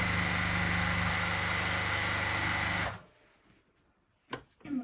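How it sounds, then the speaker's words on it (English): A sewing machine stitches quilt borders for a wavelength bargello quilt, running with a steady loud mechanical whir for about three seconds before stopping abruptly, followed by a few faint handling sounds. "I'm going to start feeding it through and sewing it as I go."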